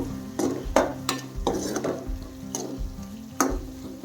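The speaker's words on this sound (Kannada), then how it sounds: "ಒಂದು ಸ್ಪೂನ್ ರೀ ಸ್ವಲ್ಪ ಚೆಂದ ಮಿಕ್ಸ್ ಮಾಡ್ಕೋಬೇಕು" A spoon stirs dried chilli powder through a fenugreek leaf and egg stir-fry in a pan, giving repeated close scrapes and taps in an uneven rhythm over a soft, continuous sizzle.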